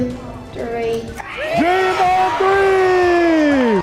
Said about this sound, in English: After an all-school cheer, 1, 2, 3. Dream On 3!